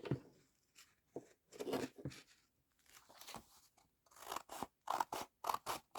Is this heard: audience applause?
no